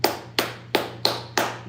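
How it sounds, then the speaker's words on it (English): Hands clap in applause: five sharp, evenly spaced claps about a third of a second apart, close and loud, with no talk over them. "I applaud them."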